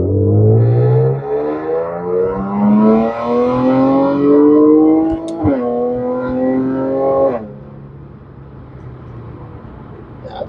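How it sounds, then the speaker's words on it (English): An Audi's aftermarket exhaust revs up loud and close, its pitch climbing steadily through a long pull, then breaking with a sharp crack before dropping away to a low idle. "Yeah, I think my exhaust sounds really nice."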